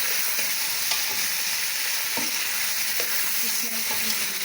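Garlic ginger paste sizzles in a pan while quail karahi cooks, a steady close hiss and crackle with occasional faint clinks of stirring, no talk.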